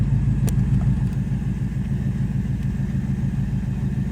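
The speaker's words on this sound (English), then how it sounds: "Gonna let it warm up and we'll take it for a spin in just a bit" A 1952 Chevrolet Bel Air engine idles while warming up, a loud, steady low rumble with an even pulsing rhythm close by.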